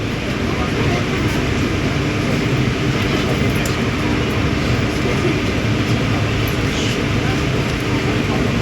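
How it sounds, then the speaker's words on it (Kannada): Inside an AC chair car of the Siddhaganga Intercity Express, hauled by a WAP7 electric locomotive, a loud, continuous rail rumble with faint rhythmic clatter fills the carriage as the train picks up speed. "ಈಗ ನಮ್ಮ ಟ್ರೈನ್ ಆಕ್ಸಲರೇಷನ್ ಆಗ್ತಿದೆ, ತೊಗೊಳ್ತಿದೆ"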